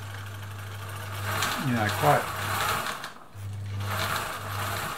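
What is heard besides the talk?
Husqvarna Viking Automatic 21e sewing machine at normal speed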